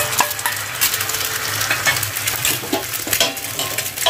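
An egg sizzles and spits in a hot pan with oil spread across it, a steady crackling fry running loud and continuous with small scraping clinks.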